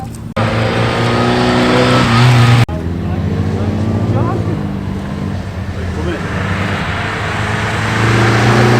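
Classic rally cars roar past at Oulton Park circuit, a loud, near engine blare that cuts off abruptly and is followed by another car's sustained drone, with voices of spectators talking underneath.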